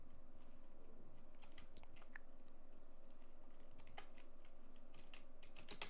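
Keys clacking steadily on a computer keyboard while C code for a calculator program is typed, a continuous close run of irregular taps with no talking.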